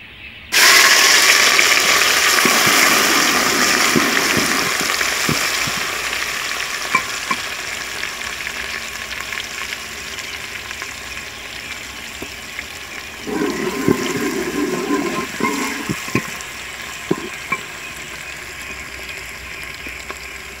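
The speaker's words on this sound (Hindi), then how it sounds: "अब पेस्ट को देगची में डालेंगे।" Paste poured into a hot degchi for a turnip curry sets off loud, steady sizzling and frying close by, holding strong throughout with a few stirring clacks and a brief surge of bubbling partway through, no speech.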